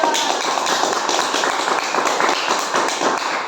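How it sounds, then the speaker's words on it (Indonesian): Classroom applause for a student group, many hands clapping together in a steady, dense patter, fairly close and loud throughout. "kita beri tepuk tangan untuk kelompok 2."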